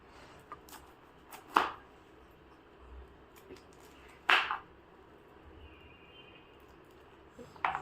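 A knife cutting and peeling a pineapple: a few sharp, separate chopping strokes at uneven intervals, close and moderately loud, over a quiet background with no talking.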